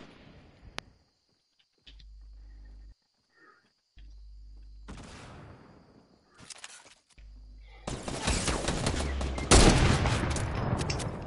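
Gunfire crackles in the video game Fortnite Season 5: a few sparse, isolated shots with quiet gaps at first, then a loud, dense volley of rapid shots near the end.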